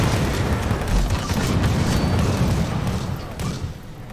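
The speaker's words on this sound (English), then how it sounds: "They just threw a bunch of grenades at their own dude." Grenade blasts in the tank game Total Tank Simulator, a continuous loud, rumbling wash of explosions with a low, booming swell near the start that fades slightly at the end.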